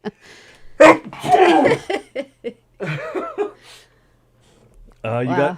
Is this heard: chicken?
no